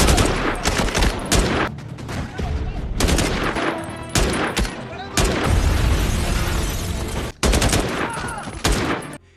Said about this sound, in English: launched a full-scale attack with rifles and grenades